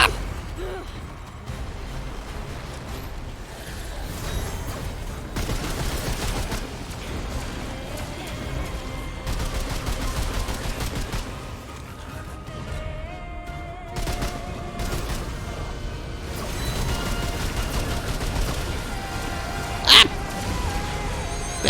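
Homing bullets fired in Remnant 2, a busy run of rapid gunfire and impacts repeating across a long stretch of combat, loud and dense with bursts coming and going, one sharp crack near the end, and talk underneath.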